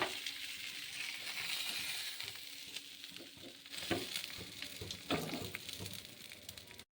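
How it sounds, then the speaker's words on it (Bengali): Rohu fish heads fry in oil over a medium gas flame, a steady crackling sizzle with a few louder spatters and pops, close and continuous with no talk. "মাছের মাথাগুলো ভালোভাবে ভেজে নিয়েছি"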